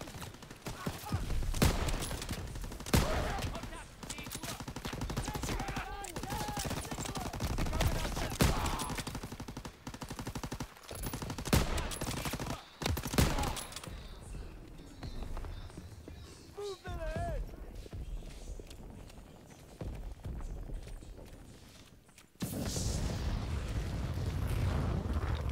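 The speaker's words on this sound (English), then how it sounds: "Artillery's hitting the beach!" Call of Duty WWII beach assault with dense gunfire bursts and heavy artillery blasts, loud and chaotic throughout, mixed with shouting voices and a sudden heavy impact near the end.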